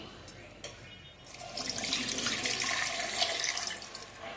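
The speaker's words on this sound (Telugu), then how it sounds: "ఒక గ్లాస్ నీళ్ళు పోసాను" A glass of water poured into a pressure cooker holding washed raw mangoes: a couple of light knocks, then a steady splashing pour close by for about three seconds.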